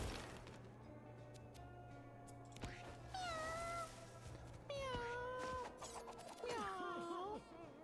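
Several cats meow in a video game, a series of distinct rising and falling meows in clusters, some overlapping, over a quiet steady background hum.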